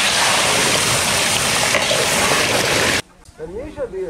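Water poured into a pan of fried mung dal gives a loud, dense rushing hiss for about three seconds, then stops abruptly, leaving quieter talking.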